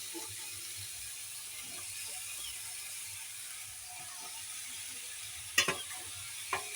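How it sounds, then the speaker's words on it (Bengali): Drumsticks (sajna stalks) and fried potato stirred in a pan: a steady low sizzle of frying runs throughout, with a couple of sharp spatula scrapes near the end and no voices. "এই সজনে ডাঁটাটা কিছুক্ষণ নাড়াচাড়া করার পরে আর এর মধ্যে দিয়ে দেবো সেই ভাজা আলুটা"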